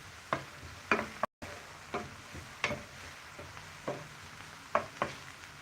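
Onion cooking in a pan, heard as a faint low sizzle broken by a string of sharp clinks and scrapes from stirring, each spaced about a second apart.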